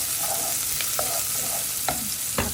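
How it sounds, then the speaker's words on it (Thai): Onions stir-frying in a pan, a steady sizzle broken by a few sharp scraping stirs of the spatula, close and fairly loud with no talking. "ลงไปผัดก่อนนะคะ ผัดให้หอมสุก"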